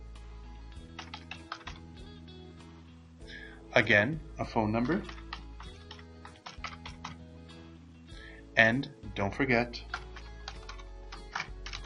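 Typing on a computer keyboard as address details are entered into WINK software: a steady run of soft key clicks throughout, sitting under a voice that talks over it twice.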